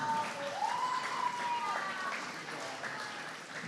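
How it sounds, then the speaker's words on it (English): Applause at a Grade 9 farewell ceremony for graduating students, a steady wash of clapping from the crowd with some voices and a faint tone mixed in. "Let's have a big round of applause for all our students graduating."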